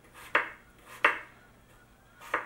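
A knife dices potatoes on a cutting board, three sharp chops spaced unevenly and close by with quiet pauses between them.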